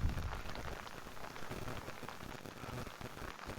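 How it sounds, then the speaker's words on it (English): Rain pattering on an umbrella held outdoors, a soft, dense, steady hiss of drops at close range, fairly quiet and continuous with no talk. "the noise of the rain on my umbrella is louder at the moment."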